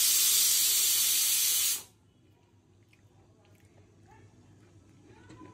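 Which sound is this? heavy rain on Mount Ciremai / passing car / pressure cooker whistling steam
pressure cooker whistling steam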